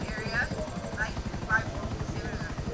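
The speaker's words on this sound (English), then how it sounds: "Helicopter's okay." Helicopter in the video game GTA, a steady low rotor thrum running throughout at moderate level beneath a person talking.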